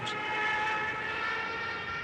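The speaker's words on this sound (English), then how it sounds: "The sirens were added to the Stukas in order to terrorize the troops" A sustained, shrill siren of a WWII Stuka dive bomber wails at a steady high pitch, loud and droning without a break for the whole moment.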